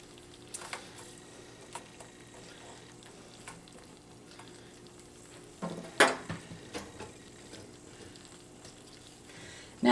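Onions fry quietly in a cast iron pan, a soft steady sizzle broken by a few scraping stirs and sharper clinks, with one louder burst of activity partway through.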